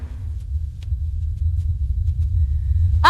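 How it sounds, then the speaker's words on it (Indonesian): Thunder rumbles with lightning in a Mahabharata drama, a deep, sustained low roll that swells gradually, with a faint crack early on and a sharper burst at the very end. "Ada kilat."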